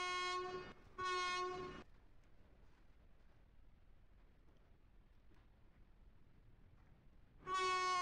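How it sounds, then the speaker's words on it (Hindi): A loud Indian freight train locomotive horn sounds in two short blasts, then fades to near silence before a third blast begins at the end. "चलो हॉर्न बजा दिया है"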